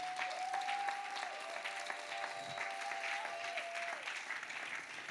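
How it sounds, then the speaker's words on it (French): A church congregation applauding, a dense, steady wash of clapping from many hands that continues without a break, with a sustained keyboard-like tone held underneath. "Tiens-toi debout et acclame la parole de Dieu"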